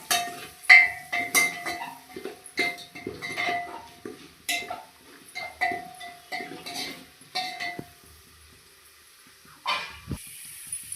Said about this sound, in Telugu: పసుపు వేసి మొత్తం కలుపుకోవాలి